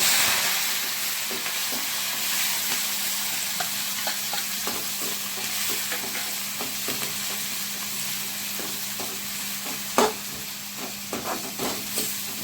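Onions, green chilies and curry leaves fry in a pan with a steady sizzle and occasional stirring clicks and scrapes of a utensil, continuous and fairly close, no voices.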